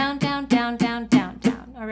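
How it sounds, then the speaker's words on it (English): Acoustic guitar strums steady all-down eighth-note strokes, six crisp evenly spaced strums ringing over a sustained chord, close and clear with no talking. "Pretty simple, just all down strums."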